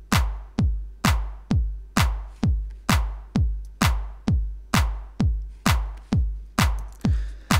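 Tech house drum pattern programmed in Ableton Live: a steady four-on-the-floor kick with a clap on beats 2 and 4, a dozen evenly spaced punchy hits over several bars, clean and close with no voices.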